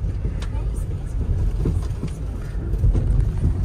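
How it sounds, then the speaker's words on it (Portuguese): A school van drives along a road with a noisy suspension, giving a continuous low rumble with repeated rattles and knocks throughout. "E a van tá com barulho, galera. A suspensão."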